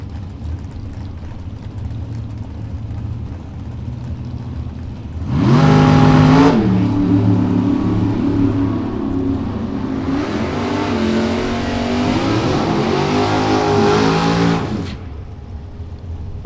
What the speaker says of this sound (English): Corvette Super, got the coupe on the right-hand side. Got Eddie McDowell's Roadster on the left.